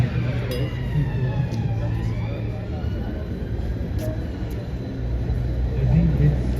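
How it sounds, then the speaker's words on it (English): An ambulance siren passes on a Leeds street, its faint wailing tones rising and falling beneath constant traffic rumble and crowd noise. "Ambulance, I'm guessing."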